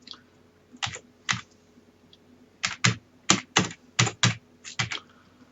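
Keys tap on a computer keyboard as search words are entered, a few isolated strokes followed by a quicker run of crisp, close clicks, with no talking.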